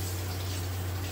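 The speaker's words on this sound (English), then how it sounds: "Fill the water, mommy." Tap water running into a bathtub to wash a child, a steady dense rushing gush with a low hum underneath, close and unbroken, with no talk.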